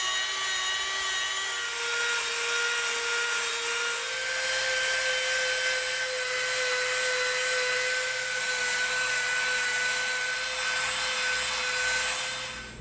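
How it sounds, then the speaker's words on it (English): A Dremel rotary tool rounds the edges of an EVA foam rocket hammer prop, giving a steady, loud, high-pitched grinding whine that runs without pause for the whole stretch with no voices. "now we're going to come in with our Dremel. We're going to round off all the edges"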